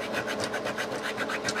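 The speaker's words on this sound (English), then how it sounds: "We switched over to our 300 grit. Take some more of the tool marks off." Continuous rhythmic back-and-forth rubbing of 300 grit sandpaper over a guitar fret crown on a Les Paul-style guitar, close and steady, with regular strokes.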